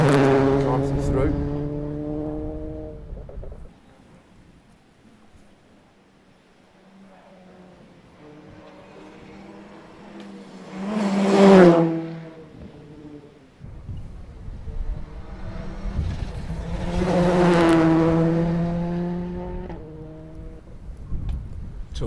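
Rally car at the Clonakilty Park Hotel West Cork Rally 2023 approaching along a stage, engine note rising and falling through gear changes, passing close with a loud peak and a second surge later, with a commentator's voice talking over it.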